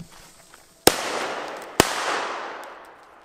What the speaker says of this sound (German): Mal zwei Fire Event auf Schlag.